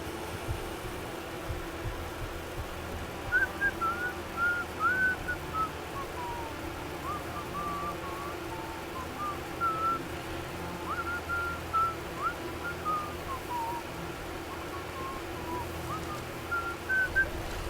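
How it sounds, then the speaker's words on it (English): Someone whistles a meandering tune faintly over a steady background hum, in short wavering phrases that come and go across the stretch. "Don't ask, I have no idea what I'm whistling."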